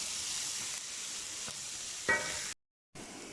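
Steady sizzling of onions frying in hot oil, a soft continuous hiss with a brief clink partway and a short silent gap near the end.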